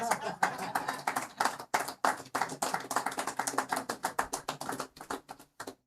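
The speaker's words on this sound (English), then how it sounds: "you need to give her a bigger round of applause than that" Sparse audience applause for a new member at a live-streamed event, individual claps in an uneven rhythm, close and distinct, thinning out toward the end with a voice talking over it.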